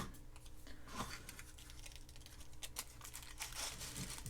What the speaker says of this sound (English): I can pull it through and it's going to turn it into a sticker